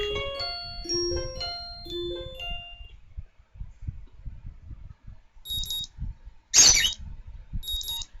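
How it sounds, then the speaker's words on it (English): A morning alarm in the video game Katawa Shoujo sounds as a bright electronic beeping pattern, repeated chirps ringing out clearly over a soft background music bed with no talking. "My morning alarm goes off"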